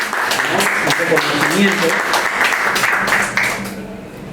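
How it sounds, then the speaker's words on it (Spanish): Sustained applause from an audience at a book presentation and talk, steady and full, while a voice speaks over it before the clapping tapers off at the end. "Pido un gran aplauso para nuestro invitado esta noche"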